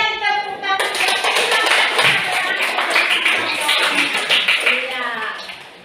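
A classroom of junior high school students bursts into a round of hand clapping after a short lead-in, the dense claps continuing steadily to the end with voices mixed in.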